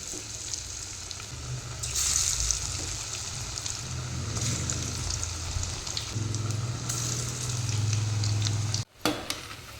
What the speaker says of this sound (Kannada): ನೋಡಿ ನೀರುಳ್ಳಿ ಬಜೆ ಫ್ರೈ ಆಗ್ತಾ ಇದೆ